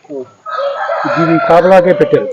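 A fighting rooster from a guarded game-fowl farm crows loudly and close by, one strained, rising cock-a-doodle-doo that holds and wavers, after a brief cluck.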